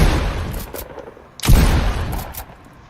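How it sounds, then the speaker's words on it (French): Fortnite weapon fire and reload effects: sharp gunshot bursts with a mechanical reloading clack between them, loud and close. "Le bruit quand ça recharge"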